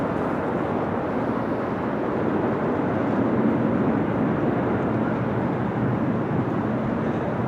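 An easyJet airliner arriving at Amsterdam Schiphol Airport on a windy, showery day, its jet roar a broad steady rumble that holds loud and constant throughout, with no voices.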